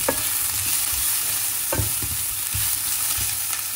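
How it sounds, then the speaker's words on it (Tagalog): Onion and garlic sautéing in a pan for pork adobo, a continuous crackling sizzle with several sharp stirring scrapes and clanks spaced across the span, close and fairly loud with no voices. "Magigisa na tayo."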